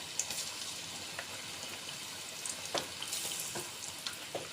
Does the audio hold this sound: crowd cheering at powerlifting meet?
no